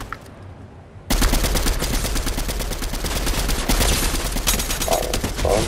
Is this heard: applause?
no